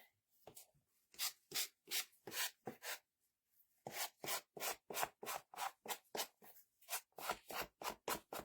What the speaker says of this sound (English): Get the edges sanded here.